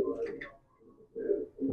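A racing pigeon gives soft, low, rumbling coos, a couple of short murmured phrases with a brief pause between them. They are faint, heard up close, and a voice speaks near the start.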